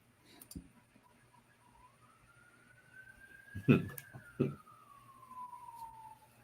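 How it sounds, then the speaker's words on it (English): An ambulance siren passes at a distance, a steady wail slowly rising and then falling in pitch, with a couple of short knocks and faint background noise. "That's not actually her screaming. That's an ambulance going by"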